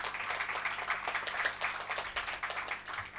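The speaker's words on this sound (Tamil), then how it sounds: "நீங்கள் கைத்தட்டி இருக்க வேணாம்" A crowd applauding, dense continuous clapping from many hands throughout.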